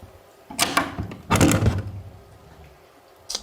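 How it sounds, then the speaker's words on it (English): A door is opened with two short, rough bursts of scraping and knocking close by, followed by a faint tap near the end. "Bro opened the door like he was gonna see something."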